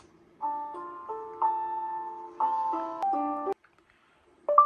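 A simple electronic melody plays in short phrases with brief pauses, thin and tinny, through a car stereo from a Carpuride W103 CarPlay/Android Auto unit.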